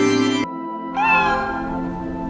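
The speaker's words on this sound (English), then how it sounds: "He's playing with the kittens." Kittens meowing in the video game Root Letter; one clear, rising meow sounds after a brief drop in the background music, close and prominent, then trails off as the music continues.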